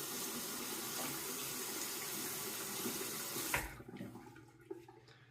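Tap water runs steadily as a razor cartridge's blades are rinsed clean of Proraso Red shaving foam, a close, continuous splashing that cuts off abruptly partway through, leaving faint drips and clinks.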